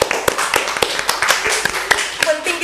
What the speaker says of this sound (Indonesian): Tepuk tangannya PJ Rahman.